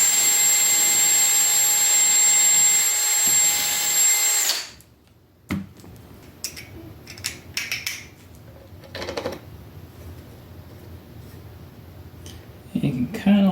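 A power drill whines loudly and steadily for several seconds at close range, then stops abruptly, leaving quieter handling clicks and knocks; a voice speaks over the drilling.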